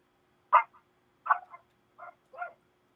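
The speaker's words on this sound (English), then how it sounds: "Sorry about that. It's my little dog." Small dog yapping in short sharp barks, four quick yips spaced about a second apart, fairly close against an otherwise quiet room.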